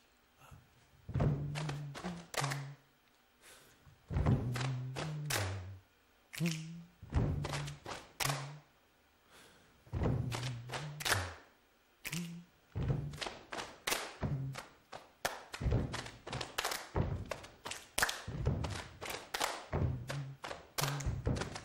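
Rhythmic body percussion: deep thumps, slaps and claps repeating in a steady pattern, with short pauses between phrases, close and loud.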